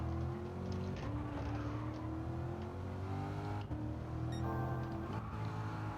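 A race car engine in a racing video game holds a steady high drone, dipping and shifting pitch as it brakes, then rising again with the throttle; it runs loud and continuous, alone.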